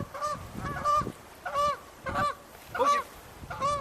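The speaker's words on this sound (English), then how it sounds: "That's geese flying by." A flock of geese calls in rhythmic bursts of honking, clear and fairly close, with pauses between each group of calls.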